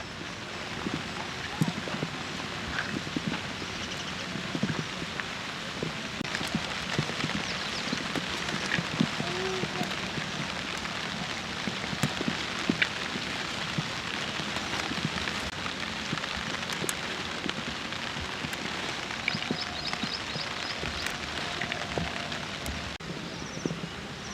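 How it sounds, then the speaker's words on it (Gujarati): Light drizzle falls in a rural farm setting, a steady soft patter of scattered drops on surfaces lasting throughout, with people talking intermittently over it. "વરસાદ જો ઝરમર ઝરમર છાંટા આવે છે"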